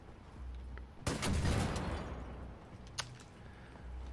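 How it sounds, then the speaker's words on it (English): Grenade launcher firing in Wolfenstein: The New Order, a sudden loud blast with a decaying rumbling explosion, followed by a sharper faint pop about two seconds later, over low game ambience. "A grenade launcher."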